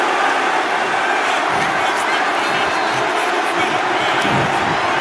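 A wrestling crowd cheering in the video game WWE 2K25, a dense, steady roar of noise that fills the whole stretch at high loudness without letting up.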